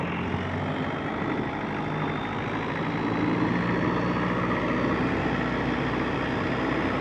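A Thai long-tail boat motor runs on the water: a steady, loud droning engine roar mixed with rushing water and wind noise, holding constant throughout with no speech.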